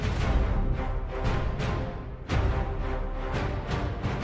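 Main theme music from the video game Battlefield 1, a full orchestral passage with heavy low percussion hits and sustained swelling layers, played fairly loud without talk over it.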